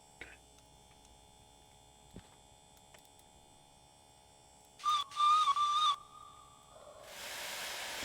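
In the Derail Valley train simulator, the steam locomotive's blower runs over a quiet, steady cab hum. A short whistle-like tone sounds first, then a broad, rising hiss of steam takes over at the end.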